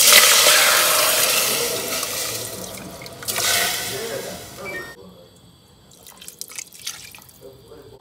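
Soaked quinoa and water pour into a pot, a steady rushing wash of liquid that fades, then gives way to quieter drips and splashes.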